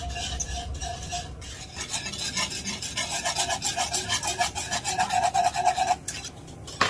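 Gelatin mixture for cathedral window dessert being stirred in a pot with water and sugar, a steady rhythmic scraping and rubbing of utensil against metal, close and continuous, growing slightly louder toward the end.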